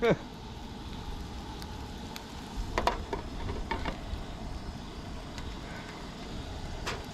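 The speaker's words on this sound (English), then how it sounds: "If you can hear me over the burner." Food frying at camp over a burner for Philly cheesesteaks, a soft, steady hiss with a constant roar underneath and occasional utensil clicks, while someone talks over it.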